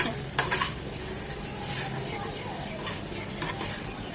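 Masala chicken is stirred and fried in a pan over low to medium heat: a soft, low sizzle runs underneath, broken by a few light clinks and scrapes of the spoon against the pan.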